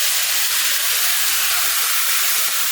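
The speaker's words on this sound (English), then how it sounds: "Start adding the pieces of seasoned turkey necks to the pot." Seasoned turkey necks hit a hot pot and set off a loud, steady, hissing sizzle that holds close and continuous throughout.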